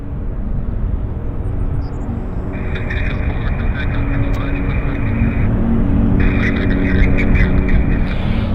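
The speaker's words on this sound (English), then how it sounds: "Do you hear a float plane?" A float plane passes overhead near the north side of Vancouver Airport, its engine a steady droning hum that holds loud for several seconds amid a constant rumble of wind and traffic.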